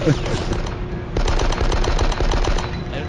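Rapid gunfire from the Die Hard video game rattles in dense automatic bursts, loud and continuous, with a brief lull before the shooting resumes.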